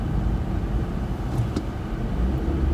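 A car with a manual stick shift driving along, a steady low engine and road rumble heard from inside, continuous and fairly loud with no distinct gear change.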